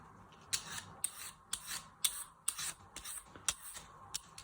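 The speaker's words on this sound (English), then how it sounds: "you peel all the way round using your peeler" Vegetable peeler scraping the skin off a sweet potato, about nine short rasping strokes in a quick, fairly regular rhythm, close and quiet with faint background between strokes.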